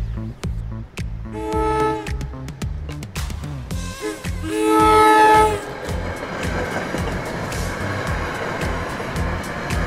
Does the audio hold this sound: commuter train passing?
yes